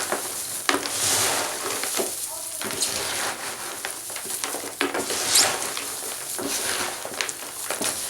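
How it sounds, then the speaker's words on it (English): Potting soil being mixed by hand in a bin while repotting aroids, monstera and philodendron: a continuous close, gritty rustling and crumbling with occasional louder scrapes and taps. "Just going to mix it with my hands now."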